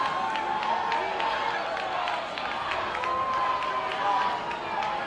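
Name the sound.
rugby match crowd cheering at the London Varsity Series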